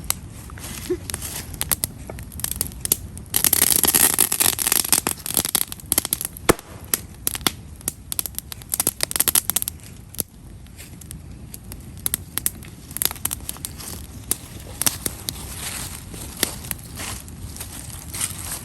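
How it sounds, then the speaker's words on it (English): Irregular sharp pops and crackles from ivy or laurel leaves burning in a fire, scattered bursts over a low background rumble, with a dense flurry of crackling early on. "when you throw ivy or laurel leaves onto a fire, you get a wonderful popping sound"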